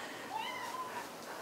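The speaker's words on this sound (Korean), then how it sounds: "정말 사랑하는 고양이" Domestic cat giving a single soft, drawn-out meow, faint and fairly close over low room hiss, with no one speaking.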